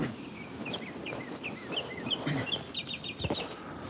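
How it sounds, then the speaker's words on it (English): Small birds chirp outdoors on a spring day, a run of short bright repeated calls over a low outdoor rumble, fairly near and steady with no talking. "Birds chirping."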